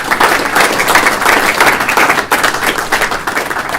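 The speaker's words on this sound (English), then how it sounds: "would you please give them a round of applause as well" A room of attendees at a financial and technology panel discussion applauds the guests, a loud, continuous burst of close clapping that holds steady throughout with a brief dip partway through.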